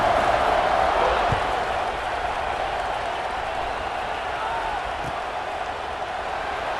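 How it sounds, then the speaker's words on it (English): A packed stadium crowd in the college football video game EA Sports College Football 26 roars in a steady, dense wash of cheering that holds for the whole stretch, loud and continuous, with a play-by-play commentator talking over it. "this crowd is feeling themselves after that last drive"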